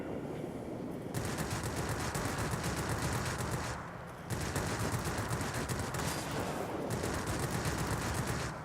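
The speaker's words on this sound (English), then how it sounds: "Already I love the burst length on the guns" Aircraft guns fire in a combat flight game as three long, rapid bursts of automatic fire. Each lasts a few seconds, separated by short gaps, loud and close with no voices.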